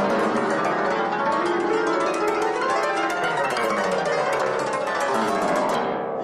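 Two cimbalom players race each other, striking the strings in fast, dense runs of bright hammered notes that ring continuously and loudly, then cut off near the end.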